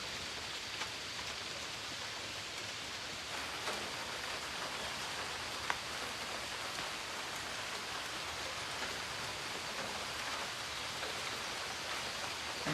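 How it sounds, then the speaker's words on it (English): Gentle rain falling outdoors, a soft, even hiss of drops pattering steadily throughout with no voices. "Nice gentle rain here."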